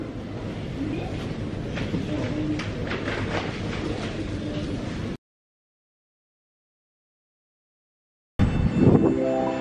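Train station ambience with a passing train's rumbling and rhythmic clatter of wheels, then a gap of silence before station noise resumes with a brief murmur of voices.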